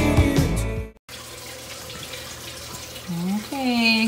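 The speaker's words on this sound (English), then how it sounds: "You're going to fill each of the little holes with water." Water is poured into the holes of a Tower Garden seed tray holding rock wool, a steady trickle running under a voice with some rising gurgling tones near the end.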